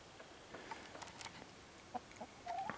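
Small chickens cluck softly in scattered bursts, fairly quiet and close, with no talking.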